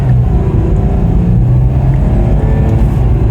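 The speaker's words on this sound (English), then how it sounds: "sport mode engaged, Tiptronic engaged, 1, and here we go, all the torque" A Porsche Cayenne Diesel accelerates hard in sport mode with manual Tiptronic shifting, a loud, steady low engine drone heard from inside the cabin without a break.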